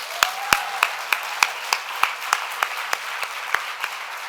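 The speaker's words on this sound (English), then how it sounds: "let's give him another round of applause" Applause at an animal rights national conference plenary session, heard as a sparse, evenly spaced run of crisp hand claps standing out over a quieter wash of clapping from the room.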